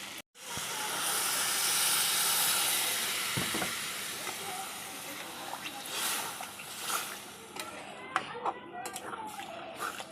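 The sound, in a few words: water added to frying potol and potato curry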